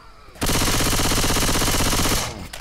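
Rapid automatic gunfire from the video game Left 4 Dead, a loud continuous burst lasting about two seconds that starts abruptly and then fades, with no voices over it.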